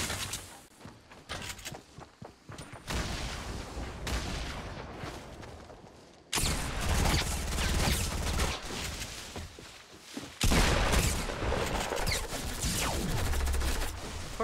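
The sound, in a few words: P90 burst gunfire in a video game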